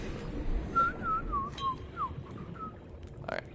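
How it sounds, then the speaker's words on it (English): A person whistles a short, wavering tune close into a microphone while playing Subnautica, the thin notes fairly faint over low background rumble. "can't imagine a whistle coming through the mic"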